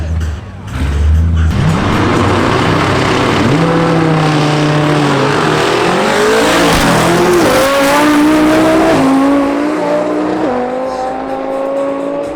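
On a drag strip, a Mercedes and a twin-turbo Audi R8 launch and accelerate hard. Loud, roaring engines climb through rising revs with repeated gear-shift dips, close and powerful, then fade slightly as the cars pull away.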